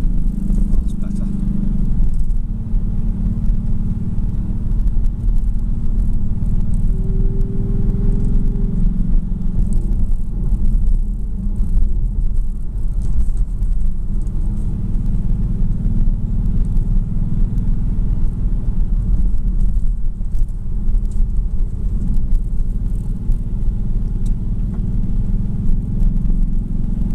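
Kia Stinger diesel car driving in sport mode with paddle-shift gear changes, a steady loud low engine and road rumble throughout from inside the cabin, with a person talking over it.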